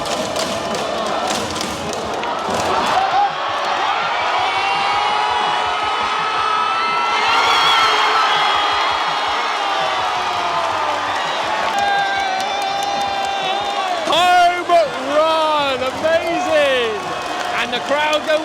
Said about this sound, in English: And the crowd go wild